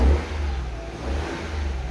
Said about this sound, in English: You see the accelerator pedal, and you see the response of the engine.